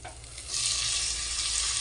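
Spinach drops into frying ginger-garlic paste in a pot, setting off a sudden loud sizzle that swells after a quiet start and holds steady, with no voices.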